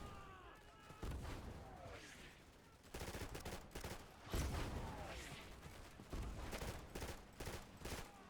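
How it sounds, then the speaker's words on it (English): Suppressive rifle and machine-gun fire in the World War II shooter Easy Red 2 at Stalingrad, with dense overlapping bursts in several loud waves and brief lulls between them. "Right, suppressive fire."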